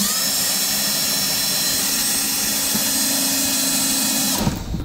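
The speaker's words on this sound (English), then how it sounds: "I have a countersinking bit that I'll drill a couple holes in there" A power drill fitted with a countersinking bit bores holes into a wood block, its loud steady whine running continuously at close range before cutting off abruptly near the end.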